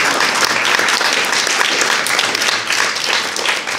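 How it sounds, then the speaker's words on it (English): A church audience bursts into loud, steady applause, dense continuous clapping from many hands that holds throughout without a break. "Can we just give Howard a round of applause?"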